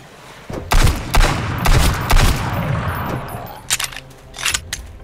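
Gunfire in the survival game Sunkenland, heard as loud, close bursts of rapid shots and single cracks in irregular volleys that fade between exchanges.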